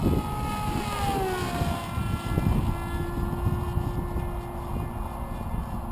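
A model airplane flying at full throttle, a sustained high buzzing engine drone with a rising and falling pitch, heard from some distance over wind noise.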